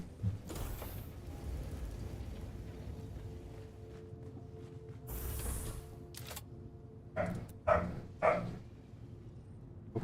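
A dog in the video game Dune: Awakening gives a few loud, short barks near the end, over a steady low ambient hum, with one earlier burst partway through.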